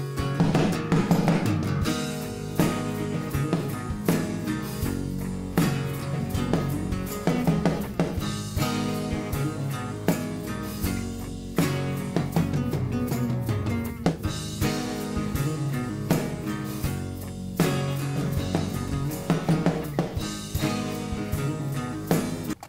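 Snare drum sent fully wet through a Softube TSAR-1 reverb plug-in, heard within a dense, continuous full mix where washed, sustained reverb tails blur the hits; loud and steady with no talking.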